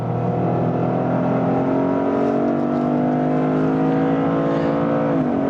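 A 2025 Toyota GR Supra or Corolla engine pulls hard on a race track, a loud sustained drone climbing steadily in pitch through the gears, with a brief dip and recovery at a shift near the end.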